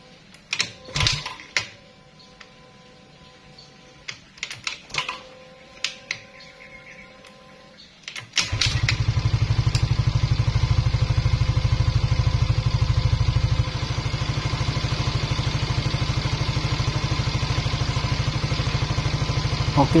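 A Suzuki Address scooter is kicked over a few times with sharp mechanical clicks, then fires up and settles into a loud, steady, close-up idle that runs for over ten seconds.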